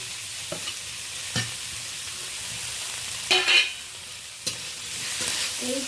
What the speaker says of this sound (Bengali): এইটা 4-5 মিনিট ধরে বেশ ভালো করে কষিয়ে নেব